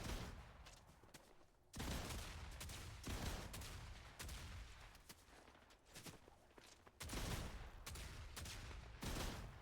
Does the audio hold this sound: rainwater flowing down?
no